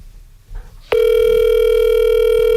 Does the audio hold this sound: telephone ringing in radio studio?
yes